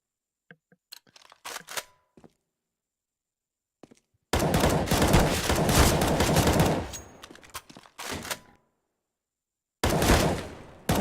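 Gunfire in a competitive shooter match: scattered sharp single shots, then a long dense burst of rapid fire, more spaced shots, and a final loud burst after a silent gap.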